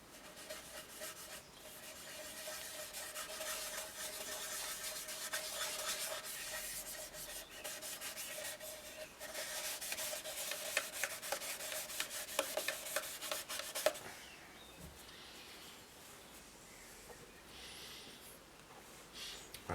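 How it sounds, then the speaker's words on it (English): Liming wax rubbed by hand onto a punky poplar wood bowl gives a steady, close, dry scrubbing and rubbing that runs for most of the stretch, then turns quieter and sparser near the end, with no talk. "when she says I should put on some liming wax, then of course that's what I do."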